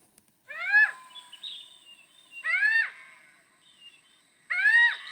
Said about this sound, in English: something that sounds a little bit more strident, a little bit more alarmed or surprised, it may well be a little owl